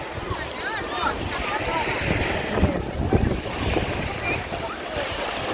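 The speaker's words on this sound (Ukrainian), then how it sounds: "вітер дує." Gusty wind buffets the microphone beside the Black Sea at Odesa, with waves rushing underneath and a voice speaking at times over the roar.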